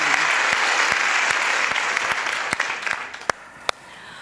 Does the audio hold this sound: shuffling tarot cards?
no